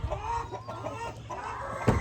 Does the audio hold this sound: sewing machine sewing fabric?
no